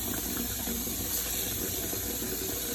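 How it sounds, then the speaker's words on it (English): Cool tap water runs steadily into a sink to soak freshly picked garden kale, a loud continuous splashing gush with no pauses and no voices. "Give them a good soak in some cool water. Let the water run clear."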